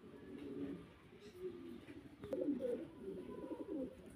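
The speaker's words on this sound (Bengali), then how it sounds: "আরও এক জোড়া জায়েন্ট হোমা" A pair of giant homer pigeons cooing in soft, throaty rolling phrases, close by and continuous, with no talk over them.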